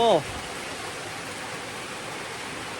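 Heavy rain pours in a steady, dense hiss during a night storm, loud and continuous, after a brief voice at the very start.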